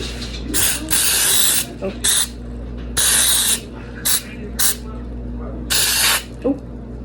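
Several short bursts of aerosol cooking spray hiss into a cupcake tin, some longer and some quick, in an irregular rhythm over a low steady hum, close by.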